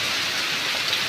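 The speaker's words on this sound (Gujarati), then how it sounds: "જો આવો અંધરાધારો વરસાદ પડે" Torrential rain lashes a village during a storm, a brief burst of loud, dense, unbroken roaring downpour.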